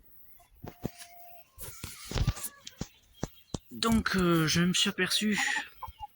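Backyard hens and a rooster cluck in bursts, with a louder run of squawks midway, while someone talks in French over them.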